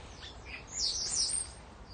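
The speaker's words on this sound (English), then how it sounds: "I can hear starlings." Starlings chirp and tweet in a quiet outdoor spot, a cluster of high, chattering calls that rises in the middle of the clip and then fades, with no voices.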